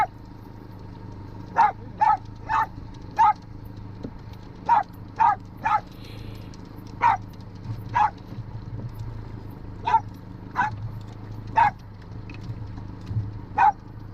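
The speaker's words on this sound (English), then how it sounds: "And Cassie barked up another one." A dog barks repeatedly on a boat during a fishing trip on the Lower Laguna Madre near Port Isabel, Texas, sharp single barks spaced out in bursts over a low steady engine-like hum.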